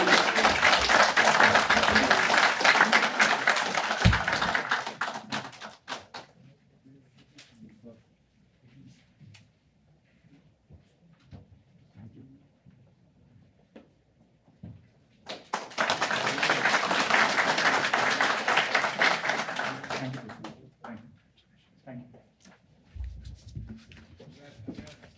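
Audience applause at an Executive MBA graduation ceremony in Mumbai: two long bursts of loud, dense clapping from a crowd, separated by a quieter stretch of faint room noise and low murmur.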